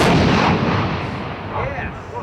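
Leopard tank main gun firing at old turrets from broken-up vehicles on a range, a loud heavy boom whose deep rumble rolls on and slowly fades across the whole moment, with no talk over it.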